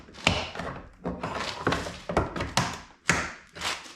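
The right door panel of a 2022 VW Tiguan is pried off with a thin tool, producing a close, irregular series of sharp snaps, taps and hollow thumps.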